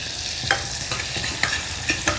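Cashew pieces sautéed in butter for a butter pulao, giving a steady close sizzle with a few sharp scrapes of a spoon stirring through the pan, and no voices.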